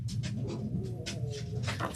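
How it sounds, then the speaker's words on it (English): Dogs pant and snuffle close by with soft rhythmic breathy bursts and faint whimpers at low level, without clear loud barks. "my dogs want to bark."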